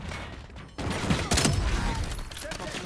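A sniper rifle fires in the video game Call of Duty: Black Ops 7, with one sharp, loud crack mid-clip amid other distant gunfire and game noise.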